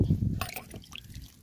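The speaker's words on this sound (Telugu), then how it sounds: "నీళ్ళు చల్లటం వల్ల చెట్టు అనేది మంచిగా అతుక్కుపోతుంది" Water is splashed and sprinkled onto newly planted tomato seedlings in a tub, giving a brief soft patter and trickle, faint and close.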